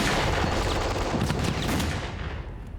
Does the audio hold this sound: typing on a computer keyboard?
no